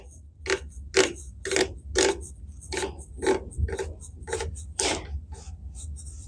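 Hand-tightening the outer shell of a connector on a VHF direction finder, giving a run of about ten short, close creaking and ratcheting clicks in an uneven rhythm with no talking.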